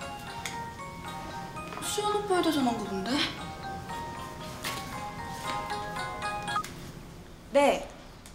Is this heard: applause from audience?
no